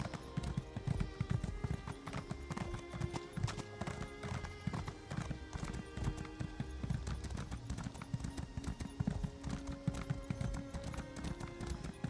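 Rapid, steady clip-clopping of horse hooves in Elder Scrolls Online with a dense galloping rhythm, continuous and even throughout, like game sound effects.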